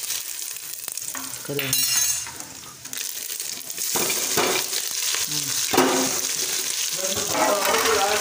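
Fenugreek seeds and curry leaves hit hot oil with a loud crackling sizzle, popping bursts and a spoon stirring against the pan, while someone talks briefly.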